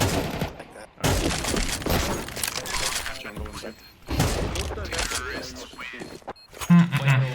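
Counter-Strike gunfire, with bursts of shots running through the clip under near-constant talk from several players.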